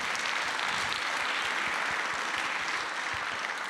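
Audience at an entrepreneurship award ceremony clapping, a dense steady burst of applause from a crowd lasting the whole time, moderately distant.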